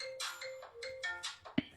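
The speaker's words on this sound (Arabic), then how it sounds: "اشوف تليفون عبده بيرن" A mobile phone belonging to a man named Abdo rings with a bright, repeating electronic melody of short tonal bursts, fairly close and clear, ending with a brief bump as the handset is picked up.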